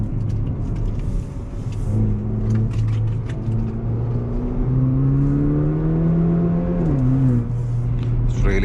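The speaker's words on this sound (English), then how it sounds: "such an exhaust note from a 2-liter engine is really a fun while we drive the car" From inside a 2023 Haval H6 GT in race mode, the 2-liter engine's exhaust drones and climbs through revs, with a steady tonal hum rising and dipping over continuous road rumble.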